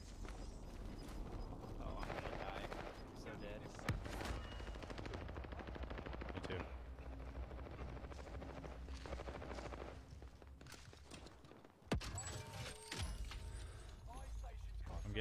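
Sniper shots ring out in a multiplayer video game: two sharp, isolated cracks several seconds apart cut through dense, continuous game noise, with players chattering over the action.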